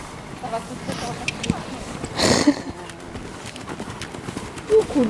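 A horse moves during a hunter riding lesson, its hooves giving a rhythmic clip-clop while an instructor talks over it with short coaching calls.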